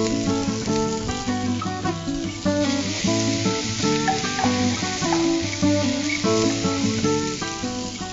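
Crushed cumin seeds sizzle steadily in a hot pan over softened aromatics for a coconut milk rice dish, a continuous loud fry with light stirring and no talk.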